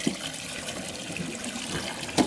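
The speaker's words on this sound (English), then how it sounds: "So I'm gonna empty my sink and clean it with clean water now." Water runs into a sink as horse-riding boots are rinsed out, a steady close splashing flow with a few louder gurgles near the end.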